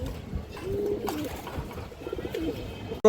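Pigeons of several fancy breeds coo in a group, low rolling coos that overlap continuously at close range with no talking, ending in a sharp knock.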